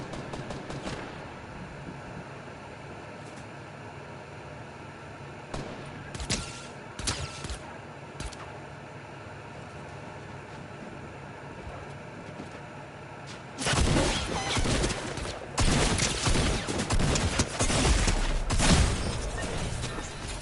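Gunfire in Fortnite Zero Build, sporadic sharp shots in the first half giving way to a dense burst of rapid, loud firing and impacts toward the end.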